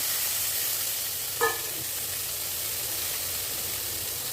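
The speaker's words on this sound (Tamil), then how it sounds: "இப்போ இதே கடாயில் பருப்புக்கும் தாளிச்சிக்கலாம் கடாயில் எண்ணெய் விட்டுருக்கேன் நெய் கூட விட்டுக்கலாம் கடுகு" Mustard seeds tempering in hot oil and ghee in a kadai give a steady close sizzle throughout, with one brief sharp pop partway through.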